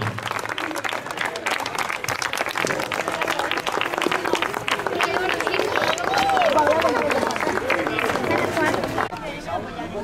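Applause rings out for the winners of a school pétanque competition in Totana: dense, sustained clapping from a crowd, mixed with cheering voices, that holds steady for about nine seconds and then drops away.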